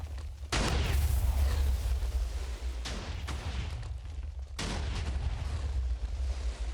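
A TNT cannon in Minecraft fires in a series of loud, booming blasts, three or four heavy explosive bursts with rumbling tails, close and dominant with no talking.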